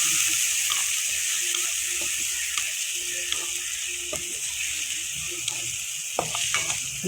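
Cumin seeds sizzle steadily in hot oil for a jackfruit curry, with a constant close crackle broken by a few sharp clicks and scrapes of a utensil near the end.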